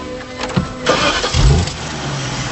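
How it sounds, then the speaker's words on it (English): A BMW E65 745i starts by push button: a starter whir, then the engine catches with a loud low rumble and settles into a steady idle. "There's just the one button to get the engine started"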